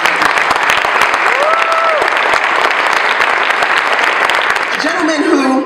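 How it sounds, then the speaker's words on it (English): Sustained audience applause fills a luncheon room, steady dense clapping throughout, with a brief sliding tonal sweep partway and faint voices near the end. "So let's give SCI a huge round of applause right now."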